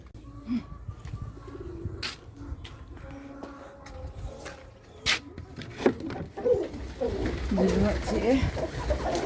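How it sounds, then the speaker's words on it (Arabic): Pigeons coo in a backyard pigeon coop beside a poultry area, soft low throaty calls repeating and growing busier toward the end, mixed with rustling and a faint human voice in the background. "احنا داخلين عند الحمام اهو، نشوف اخباره ايه اهو، ونشوف فريدة وفريال وفاروق."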